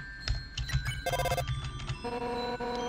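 A synthetic telephone ringtone chirps in a few short electronic bursts over a low game soundtrack, faint and without speech.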